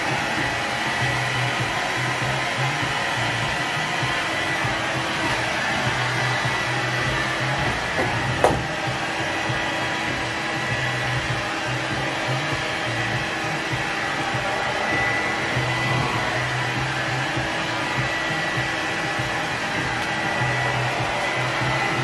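A blow dryer drying a curly wig, running as a steady loud whooshing hum throughout with one brief knock partway through.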